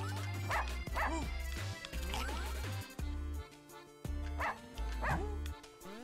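Cartoonish dogs from the game Russian Subway Dogs yap and bark repeatedly in short bouncy bursts over a looping bass-heavy game soundtrack, loud and close.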